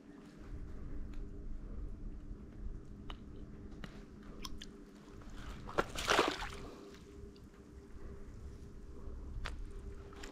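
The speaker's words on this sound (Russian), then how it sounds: "На том берегу в траве так рыба чавкает, как будто там косяк карасей." Fish chomp and slosh in the grass along the far riverbank, a faint, continuous wet chewing over background hiss, with one louder splashy burst in the middle and no talk.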